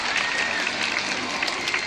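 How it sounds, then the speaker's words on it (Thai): Loud, dense crowd applause fills the air at the opening ceremony of the 45th school sports day at Chaloem Khwan Satri School, an unbroken roar of clapping throughout. "ขอเสียงปรบมือดังๆด้วยค่ะ"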